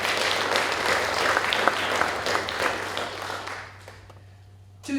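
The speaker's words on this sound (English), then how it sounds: "You might want to give them a round of applause for all the support you've been given as well." Audience applause fills a graduation hooding ceremony for a master's program in psychology, a dense steady clapping from a large crowd that fades toward the end before a brief swell returns.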